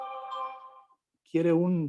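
A telephone ringing indoors, a brief electronic ring tone that fades out before a voice cuts in, close and clear.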